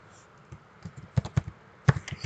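Someone types code on a computer keyboard, a few scattered quiet keystrokes that grow into a short burst of louder clicks, with no talking.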